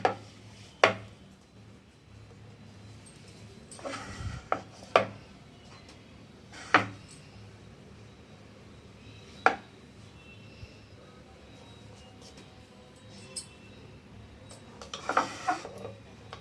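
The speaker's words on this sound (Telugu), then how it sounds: "ఇలా పామేసుకొని కట్ చేసుకోవాలి" A knife cutting rolled shankarpali dough into squares on a board, heard as sparse, soft knocks and taps spaced a few seconds apart over a quiet kitchen background.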